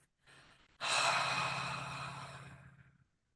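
A single close, slow breath: a short inhale, then a long, audible exhale through the mouth that fades away.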